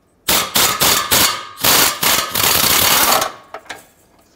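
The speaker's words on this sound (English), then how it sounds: "use that same 10 millimeter socket you used earlier and take both of those bolts out" Ratchet with a 10 mm socket loosening exhaust bracket bolts on a 2008-2020 Dodge Grand Caravan during catalytic converter replacement: rapid, loud, close metallic ratcheting bursts that continue for about three seconds, then a few sparse clicks.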